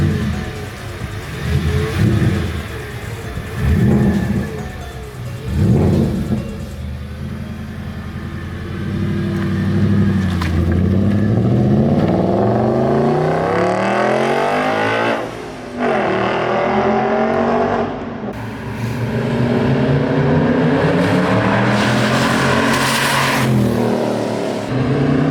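A loud, close supercharged V8 in a Jeep Trackhawk revs in repeated bursts, climbing and falling in pitch with a deep roar and brief drops between pulls.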